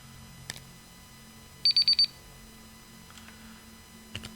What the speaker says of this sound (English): Timer's just gone off on the table.